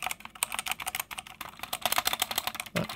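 Fingers type rapidly on a 60% QWERTY mechanical keyboard, a dense stream of crisp clicky keystrokes at close range with one deeper spacebar thump near the end, with no talking.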